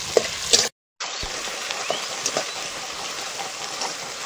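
Chopped onions frying in hot oil in a pan, a continuous crackling sizzle with a few sharp clinks and a brief dropout early on, no voices.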